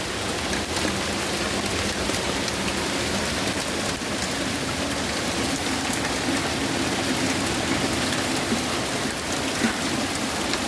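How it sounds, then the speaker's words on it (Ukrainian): Hail falling over a garden in Poltava, a dense, steady hiss and patter of hailstones striking surfaces, loud and continuous throughout, with no talking. "Ось і до нас дійшов град."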